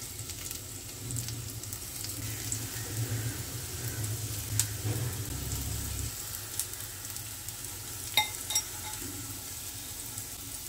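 Bitter gourd rings frying in oil in a pan over a low flame make a soft, steady sizzle with occasional light clinks and scrapes, fairly quiet and without speech.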